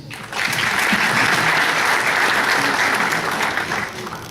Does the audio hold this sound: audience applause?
yes